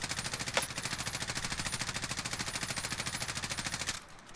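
Sustained rapid automatic gunfire in a video game, aimed at a helicopter, rattling steadily for about four seconds before cutting off abruptly.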